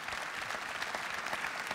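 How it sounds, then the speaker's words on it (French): A brief burst of dense audience applause fills the hall at the awards ceremony of a world pastry competition, many hands clapping steadily at moderate distance. "Allez, je vous demande de les applaudir une fois."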